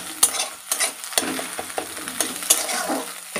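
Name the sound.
egg being chopped up while frying in a pan for chow mein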